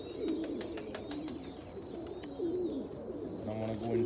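Pigeons or doves cooing at a backyard water dish, soft repeated coos at close range with a few brief chirps and faint clicks over steady outdoor background.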